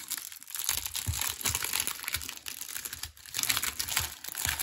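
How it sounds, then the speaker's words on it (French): Plastic wrapping being peeled and pulled off a set of one-piece stamps with four mushroom motifs, heard close up as continuous crinkling and crackling with sharp rustling bursts and no talk. "je vais retirer le plastique parce que vous n'allez pas bien voir"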